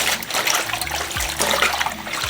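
Greens being rinsed and agitated back and forth in a basin of water, a continuous close sloshing and swirling with small splashes throughout.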